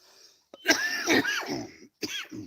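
A few harsh throat-clearing coughs close up, two longer bursts with a short pause between them, followed by a brief third cough.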